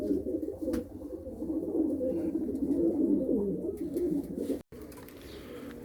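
Pigeons coo in steady, overlapping low calls close by, a continuous murmur from a loft of prize-winning racing birds, with a brief dropout near the end before the cooing resumes.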